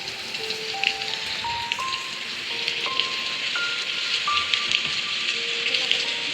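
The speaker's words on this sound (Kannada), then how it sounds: "ಫುಲ್ಲು ಫ್ರೈ ಆಗೋವರೆಗೂ ಹಾಗೆ ಬಿಟ್ಟು" Vegetable pulao ingredients frying in a pan, giving a steady crackling sizzle throughout, moderately loud and close, with faint tonal beeps sliding upward in the background and no voices.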